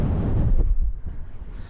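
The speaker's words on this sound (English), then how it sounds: "I'm back in the wind now." Strong wind buffets the microphone on the summit of Snowdon, a loud, close rumbling gust that eases and then surges briefly again.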